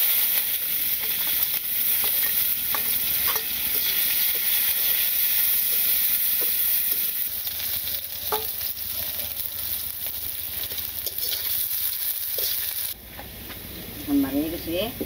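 Onions sizzle in hot tempering oil for sambar, a steady loud hiss with faint stirring clicks that cuts off near the end, where birds chirp briefly.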